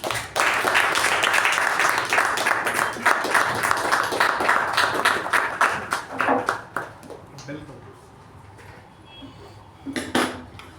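Clapping at a Toastmasters club meeting welcomes the acting president of the day, starting dense and lively, then thinning to scattered claps with a few late ones near the end.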